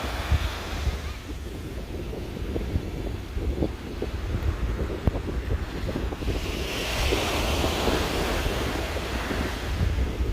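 Surf breaks and rolls onto the beach at Kuta, Lombok, a steady loud wash with wind buffeting the microphone and the surge building in the second half.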